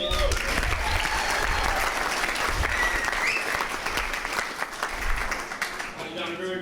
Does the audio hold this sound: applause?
yes